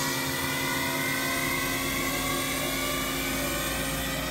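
Spindle of a Mazak AJV25404N CNC machining center turning at about 3,500 RPM, giving a steady, unbroken mechanical whine and hum close by, with no talking.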